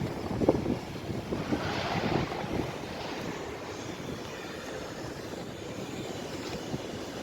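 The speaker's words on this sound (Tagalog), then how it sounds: "Mahangin siya" Strong wind roars steadily across the microphone, a continuous low rumbling buffet with no voices.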